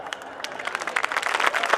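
An audience applauds at a Hindi poetry recital, a dense, steady patter of many hands clapping together and swelling slightly across a short burst.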